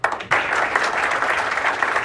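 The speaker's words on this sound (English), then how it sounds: "big round of applause for all of you being here today." Applause from a crowd at a lottery charity golf event, a dense burst of many hands clapping that swells in at once and holds steady for a couple of seconds.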